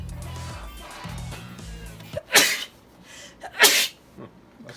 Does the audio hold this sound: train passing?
no